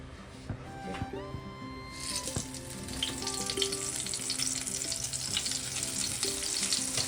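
Eggplant slices fry in oil with a steady sizzling crackle that grows louder and denser partway through, alongside a few soft clinks and stirring sounds close by.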